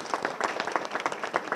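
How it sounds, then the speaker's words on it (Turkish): A small audience claps steadily at the opening of a women's cooperative textile workshop in Ovacık, the claps quiet, close and fairly even in rhythm, with no voices over them. "Gerçekten onu bir alkışlamak istiyorum."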